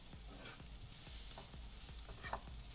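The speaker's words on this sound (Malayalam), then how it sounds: "അതും കൂടെ ചേർത്ത് നല്ല പോലെ ഒരു മിനിറ്റോളം ഒന്ന് വഴറ്റും." Sambar spices with fenugreek powder are sautéed in a pan, with a low sizzle under scattered soft scraping stirs, faint and close.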